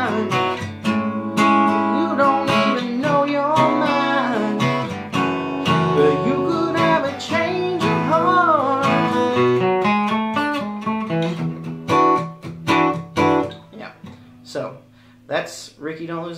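Electric guitar strums chords of the bridge of a song with a singing voice over the top, steady and full, thinning to a few sparse notes near the end.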